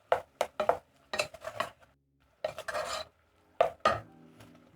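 Beef stock cube gets stirred into a cooking pot, with a spoon scraping and knocking in quick bursts separated by short pauses, close and clear with no one talking.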